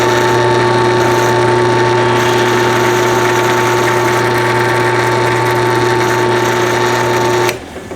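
A steady, high-pitched whine of a power drill drilling out a seized brake bleeder valve runs continuously at close range, then cuts off abruptly near the end.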